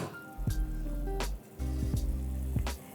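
Spices and tomato puree being roasted in a pan, heard as wet squelching and bubbling with a few sharp stirring clicks, close and fairly loud, without talk.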